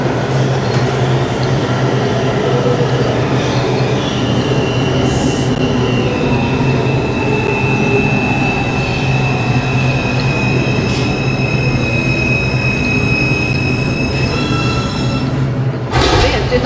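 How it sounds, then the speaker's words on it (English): A New York City subway R142 car on the Manhattan-bound 5 train rumbles loudly and continuously, with sustained high wheel squeal tones drifting across the run and a brief burst near the end. "Manhattan-bound 5 train."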